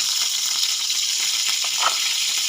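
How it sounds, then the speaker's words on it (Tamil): Steady hissing sizzle of mustard seeds and lentils frying in hot oil, close up, with faint crackles and no talking. "பீட்ரூட் பொரியல் தாளிக்கிறதுக்கு 2 ஸ்பூன் எண்ணெய் விட்டுக்கலாம்"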